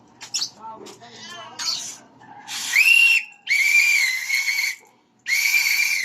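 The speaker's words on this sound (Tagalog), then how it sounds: "Itong pito, patulogin ko talaga ito." A whistle is blown in three long, loud, shrill blasts with brief gaps between them, coming after a few seconds of people chatting.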